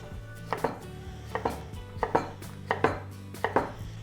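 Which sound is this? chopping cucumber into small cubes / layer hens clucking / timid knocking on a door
chopping cucumber into small cubes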